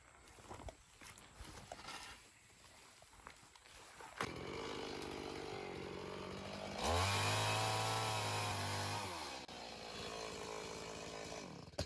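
A chainsaw roars steadily, rising as it bites into a log, then idling down; no talk.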